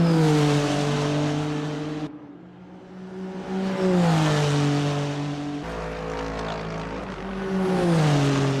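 GT3 race cars lapping Sepang in a racing video game, loud engine drones with rising and falling pitch as cars accelerate and pass, a brief dip to a quieter stretch before engines swell again; no talk.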